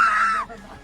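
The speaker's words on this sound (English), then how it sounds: "I will put in a clip of me back then just screaming" A single person lets out a sharp, high scream on a scary Disney ride, close and loud, holding briefly before breaking off into a fading whimper.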